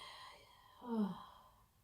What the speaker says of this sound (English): just take a few breaths